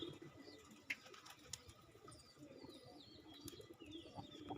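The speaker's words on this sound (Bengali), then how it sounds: "এখানে অনেকগুলা কবুতর আছে" Pigeons on a farm coo softly in the distance, with occasional faint chirps and low ambient background noise and no speech.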